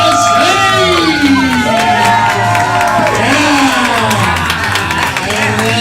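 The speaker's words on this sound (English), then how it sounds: "I need you to start clapping. I need you to start screaming." An audience at a live Halloween special event cheers, whoops and screams as players return to the stage, a loud dense crowd roar with shouting voices and a host talking over it.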